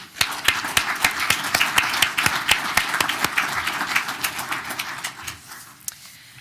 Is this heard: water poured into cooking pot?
no